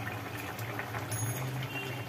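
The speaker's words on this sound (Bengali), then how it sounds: "ঝোল তো টকবক করে ফুটছে" Thin rui fish curry broth with ridge gourd and potato bubbles over the heat, a soft, steady simmering burble with low gurgles, close by and fairly quiet, with no talking.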